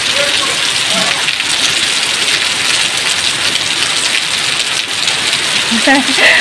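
Heavy rain pours down in a loud, continuous wash of drops on surfaces, close and unbroken, with faint voices surfacing briefly near the end.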